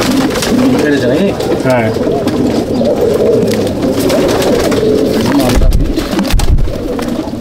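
Andhra beat pigeons coo in a loft near Howrah, a dense, steady murmur of many birds calling together at close range, with someone briefly speaking over them.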